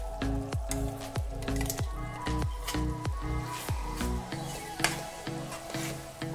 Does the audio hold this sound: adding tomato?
yes